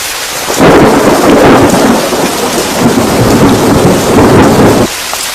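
Heavy, steady rain pours down with a thunderous low rumble throughout, loud and close, without any voices.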